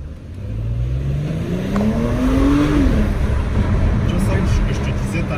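A Porsche Cayenne Coupé engine revs up in a rising pitch, then drops sharply at a gear change and pulls on again, heard from inside the car, loud and steady.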